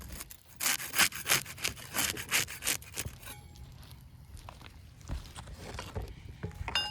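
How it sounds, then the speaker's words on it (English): A putty knife scrapes and pries under roof shingles to break their seal, giving a run of loud, close, rhythmic scraping strokes that soften into quieter rustling and occasional knocks. "Use the putty knife to unseal the top shingle."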